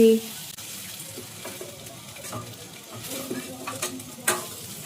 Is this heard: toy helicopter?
no